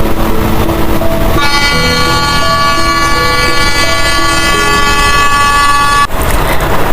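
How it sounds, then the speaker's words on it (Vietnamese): Train horn blaring in one long sustained loud tone, beginning after a second of rumbling and cutting off abruptly near the end. "Đó chính là tiếng còi tàu đấy các con ạ."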